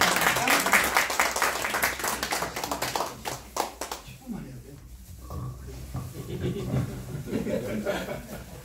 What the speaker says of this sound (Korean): 나오실 때 큰 박수를 해주시기